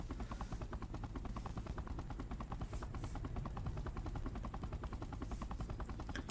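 In the Mercenary Kings video game, the Doomsday Harrier boss aircraft gives off a continuous rapid chopping roar, steady and dense throughout, mixed with rattling bursts of gunfire and no talk.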